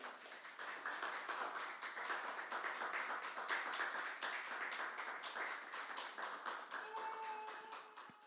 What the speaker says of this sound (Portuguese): Aplauda o Senhor, glorifique o nome do Senhor